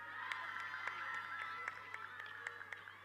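Distant crowd cheering and scattered clapping at a local night cricket tournament match under lights, a steady roar of voices with sharp shouts rising through it for a few seconds.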